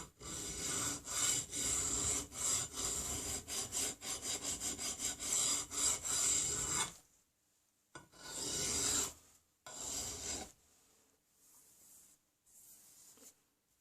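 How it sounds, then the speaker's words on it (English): A hand file rasps along the edge of an octagonal steel rifle barrel, breaking the sharp corner, in steady rapid strokes for about seven seconds, then a few shorter separate passes with pauses between them. "when one surface is done, we go with a file and break the edge."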